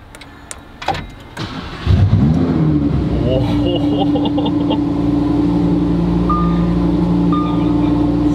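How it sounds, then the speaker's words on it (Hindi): A Lamborghini engine starts with a sharp crank and loud bark, then settles into a steady, deep, powerful idle that fills the space up close, while people talk over it. "हाँ विनीत, डर रहा हूँ मैं गाड़ी चालू करते समय।"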